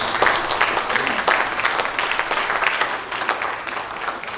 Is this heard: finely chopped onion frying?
no